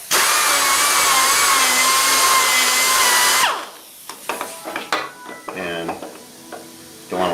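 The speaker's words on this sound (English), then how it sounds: "take a rotary burr and just clean out these little thread area right here" Rotary burr cleaning out a threaded area in metal: a loud, steady high whine runs for about three and a half seconds, then cuts off, leaving scattered light metallic clicks and clatter.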